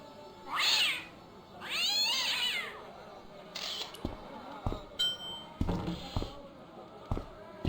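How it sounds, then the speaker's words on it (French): A cat in the Broken Sword adventure game (Les Chevaliers de Baphomet) gives two drawn-out meows close up, followed by scattered soft clicks and thumps. "On peut pas cliquer sur le chat."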